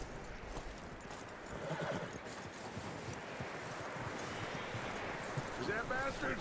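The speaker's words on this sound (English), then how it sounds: "That looks like a decent horse." A horse in the Red Dead Redemption 2 video game whinnies and clip-clops with hooves at a steady pace outdoors, a faint wind under it and voices talking alongside.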